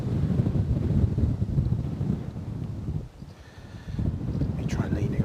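Strong gusting wind buffets a microphone and tripod at an airport, producing a heavy, rumbling roar that dips briefly near the middle before surging back.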